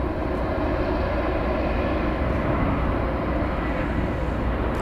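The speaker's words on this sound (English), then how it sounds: "here as it approaches 18 right, because Spirit Flight 216 is coming in from New Orleans." A Spirit Airlines Airbus A320 approaching runway 18 right at DFW Airport at night, a steady, loud, broadband engine roar that holds constant throughout with no clear rise or fade.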